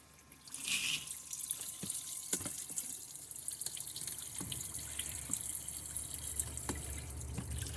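Water runs from a battery-powered tap in a vacation car, starting with a splashy gush and then settling into a steady trickle with scattered drips and clinks. It is close and moderately loud, with no talking.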